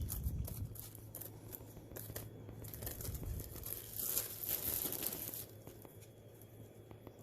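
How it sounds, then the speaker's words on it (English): Scissors snip the zip-lock strip off the top of a plastic baggie, a dry crinkling, tearing cut heard close up with plastic rustling throughout and no talking. "So you're going to cut the zippy lock off the top of it."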